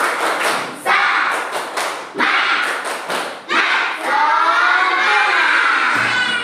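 A classroom of fourth-grade children doing an Indonesian 'tepuk semangat' clapping chant, clapping in a rhythmic pattern with bursts of sharp claps between shouted chanting, loud and close.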